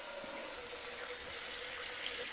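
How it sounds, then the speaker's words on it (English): Water rushes steadily through a handheld shower head as it is rinsed out, a close, even hissing spray with no talking. "Next, thoroughly rinse out your shower head"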